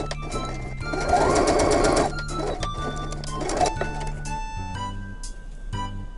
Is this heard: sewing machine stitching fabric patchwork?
yes